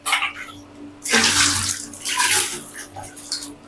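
Tap water runs and splashes while dishes are washed indoors, a close, steady rushing that swells after a second and continues with small fluctuations and faint clatter, with no talk.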